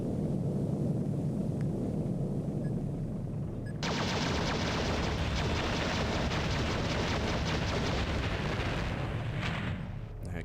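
Missile strikes in the strategy video game Uprising, heard as a dense, continuous roar of explosions and rumbling that surges louder partway through and holds steady until it cuts off near the end, with no talk over it.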